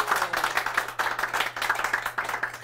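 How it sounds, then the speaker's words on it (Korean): Audience clapping for two MCs at a Korean book forum author meeting, a steady stream of claps from a modest crowd, moderately close and continuous for the whole stretch with no talk over it. "두 분께 박수 한번 부탁드리겠습니다."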